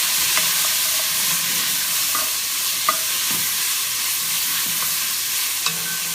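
Basil sizzles and sweats in a soup pot, a steady bright hiss with faint clicks and pops, continuous and close with no talking.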